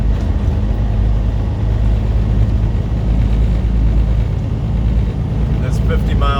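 Heavy truck engine droning steadily at highway speed as the driver works through the gears near 50 mph, a loud, continuous low rumble with no clear break between shifts.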